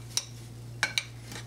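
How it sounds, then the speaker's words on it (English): Panko breadcrumbs tossed with a parsley and oregano herb mix for Las Vegas–style clams casino, heard as a few sharp utensil clinks against a bowl, three quick taps spread over a short moment with quiet between. "We're going to mix this up really good."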